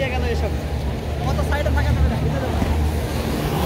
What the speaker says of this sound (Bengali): আমরা এখন স্পিড বোট দেখবো